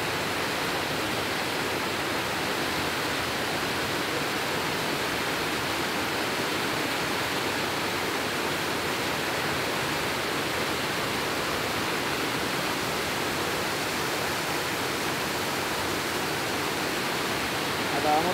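Water pours over a dam in a steady, unbroken broadband roar that holds at an even loudness from start to finish, close and continuous.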